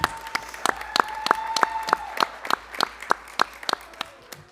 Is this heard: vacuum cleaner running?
no